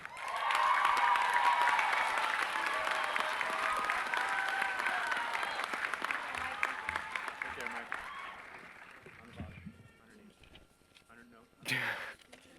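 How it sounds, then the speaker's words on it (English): Sustained applause from a large audience at a high school graduation fills most of the clip, gradually thinning out toward the end, followed by a brief burst of noise. "one more round of applause"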